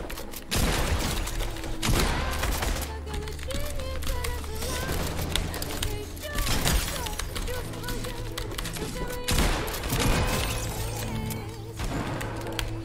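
Rapid bursts of Fortnite gunfire with sharp impacts and mechanical clicks, recurring every few seconds under people talking.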